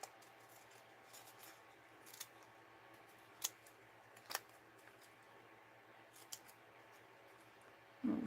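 Scissors snip through scrap paper in a quiet room, giving a few sparse, sharp cuts separated by pauses, with a louder rustle at the very end.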